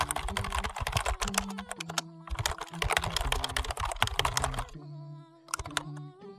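Quick keystrokes on a computer keyboard entering a short command, bursts of clicky taps with brief pauses between groups, close and clear over a faint steady background hum.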